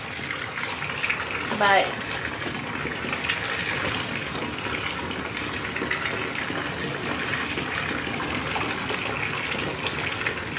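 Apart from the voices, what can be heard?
rinsing tea-stained fabric under cold running water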